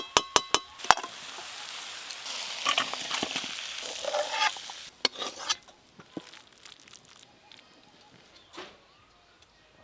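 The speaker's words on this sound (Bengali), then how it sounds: "কেটে ধুয়ে রাখা আলু আর ফুলকপি একসঙ্গে ভেজে নেব।" Potatoes and cauliflower, cut and washed, frying together in a pan, with scattered clinks and stirring scrapes over a faint sizzle, louder in the first few seconds and thinning out toward the end.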